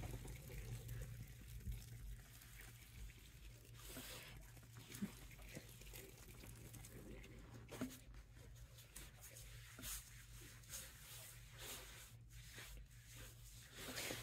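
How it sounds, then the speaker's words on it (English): Warm water runs steadily from a sink nozzle during a hair wash, a faint, continuous hiss and splash that lasts throughout with no one speaking. "I'm going to run some warm water."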